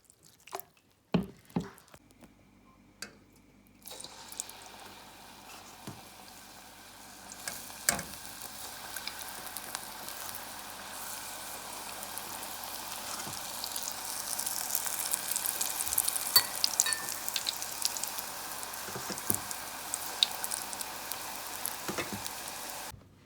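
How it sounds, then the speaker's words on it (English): Guyanese polari batter fries in oil with a soft, steady sizzle that grows a little louder over time, broken by occasional sharp ticks, pops and clicks, all fairly quiet. "I'm gonna make it to a nice thick paste that will be easy to"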